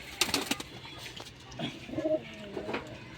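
Domestic pigeon recovering from illness cooing softly, a few low throaty coos near the middle, close but faint, with light scuffling and handling noises around them.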